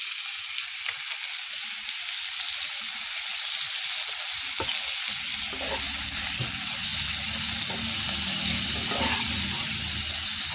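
Pieces of elephant foot yam fry in a pan, a steady broadband sizzle that thickens and grows louder about halfway through as the yam goes in, with a few soft stirring knocks.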